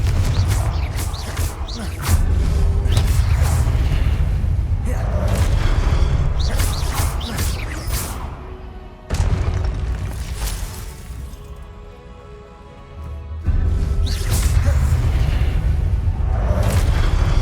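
Repeated loud booming blasts and whooshes of the Confringo explosive spell cast in Hogwarts Legacy, each burst swelling and rumbling, with brief quieter gaps between them.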